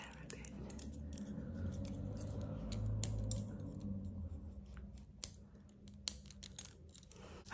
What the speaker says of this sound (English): I've just gone and got the bigger scissors,